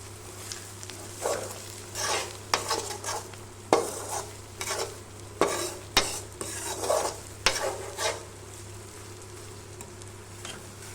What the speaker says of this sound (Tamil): இப்போ மல்லித்தலை சேர்த்துட்டு கலந்து விட்டுறலாம்